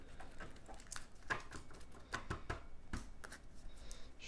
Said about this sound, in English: We'll shuffle these as this, and then we can take two smaller decks.